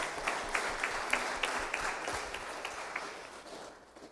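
A church congregation breaks into steady applause, a dense even round of clapping that slowly tapers off toward the end.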